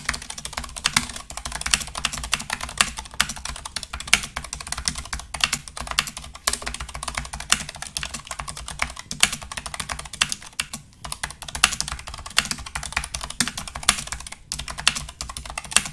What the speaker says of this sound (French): je vais rapprocher mon micro pour que vous puissiez entendre les touches et les bruits, enfin le bruit des touches